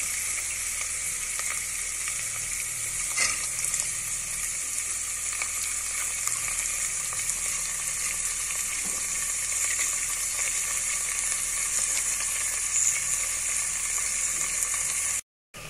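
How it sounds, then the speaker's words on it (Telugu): Soaked moong dal (green gram) frying in hot oil for a ridge gourd curry, a steady loud sizzle with occasional stirring clinks, continuous and close until an abrupt cut at the end. "ఐదు నిమిషాల పాటు ఆయిల్లో ఫ్రై అయిన పెసరపప్పులోకి జింజర్ గార్లిక్ పేస్ట్"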